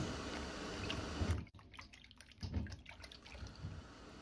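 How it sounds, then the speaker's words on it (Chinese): Peeled radish rinsed by hand in a bowl of water while prepping a home-style radish and pork blood stew: soft close splashing and trickling, with a sharp break partway through before gentle sloshing and drips resume. "然後放入水中清洗乾淨"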